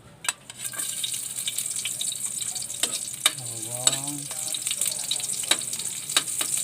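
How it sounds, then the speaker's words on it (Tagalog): Garlic sautés in a pan for a garlic crab dish, with a soft continuous sizzle, scattered clicks and scrapes, and a brief voice partway through. "Gigisa na natin ng bawang."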